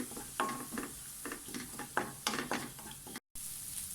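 Broccoli and egg stir-fry being stirred in a pan with coconut, soft sizzling under repeated scraping strokes of a spoon, close and fairly quiet, with a brief cutout near the end.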